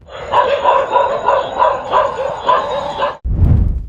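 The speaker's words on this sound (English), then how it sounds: "The local dogs reacted immediately, scattering in every direction." Local dogs on trail camera footage bark in a rapid, steady series of loud yaps at close range, then a sharp thump and rustle follows as the barking stops.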